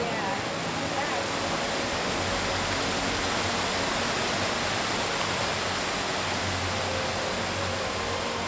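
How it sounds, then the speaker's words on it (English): Steady broadband rush of falling water, constant and close, filling the whole stretch without letup. "look at this beautiful waterfall"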